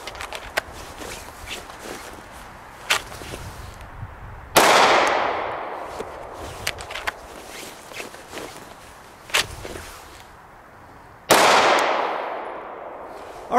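Handgun fired during a draw-and-shoot drill on a range, two sharp, loud reports several seconds apart ringing out over quieter ambient clatter and light footsteps.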